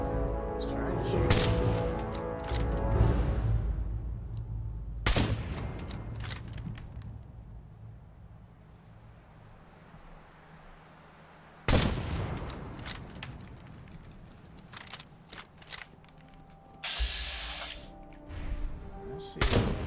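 Gunfire from riflemen in the Fallout 4 video game, with several loud bursts of shots and thuds in the first five seconds, then sharp isolated cracks and a fresh volley near the end, with talk over parts of it.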